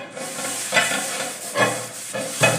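A wire scrubber scours a new cast iron griddle pan during cleaning, giving rough, hissing scrapes that swell in regular strokes roughly every 0.8 seconds, close and steady with no voices.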